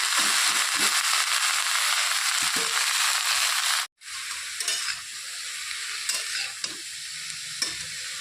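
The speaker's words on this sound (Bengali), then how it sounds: "তো তেলটা গরম হয়ে গেছে এখন আমি বাঁধাকপিগুলো ঢেলে দেব" Cabbage hits hot oil in a pan and fries with a loud, bright sizzle, then a brief drop before the frying settles into a steadier crackle with scattered stirring clicks and scrapes.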